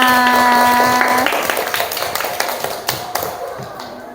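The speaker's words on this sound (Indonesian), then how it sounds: "Tepuk tangan untuk semuanya." Applause in a classroom, a burst of many hands clapping close by that thins out over a few seconds, with a sustained tone fading at the start.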